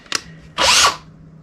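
Dewalt XRP 18v NiCad cordless drill that has been smoking, a short tap followed by a brief motor whir that lasts about half a second before stopping.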